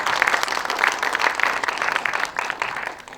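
A hall audience at an association's annual general meeting breaks into steady applause, a dense wash of clapping that tapers off toward the end.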